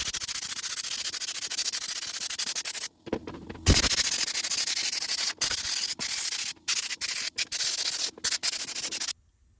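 A sandblasting gun soda blasts the inside of a metal latch, a loud hissing blast that runs steadily, then cuts in and out in short trigger pulses with brief silent gaps.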